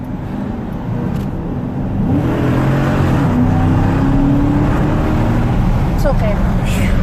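A 2012 Dodge Challenger pulls away and cruises after a fresh oil change, its engine drone rising steadily from inside the car, with people talking over the hum.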